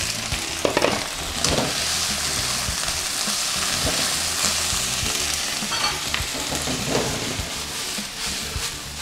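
Onion and beef fry in a pan, giving a loud, continuous close sizzle broken by occasional stirring scrapes and clinks, with no talking.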